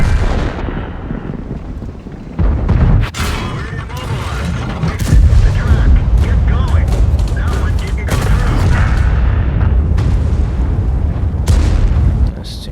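Heavy tank cannon fire in World of Tanks, loud booming shots landing at intervals amid constant engine rumble and battle noise, while a player talks over the action.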